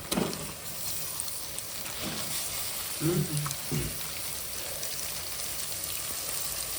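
Chicken pieces dropped into a pan of frying onion and chili curry base, giving a steady soft sizzle with a few brief thumps and clatters as the meat goes in, fairly quiet with little talk.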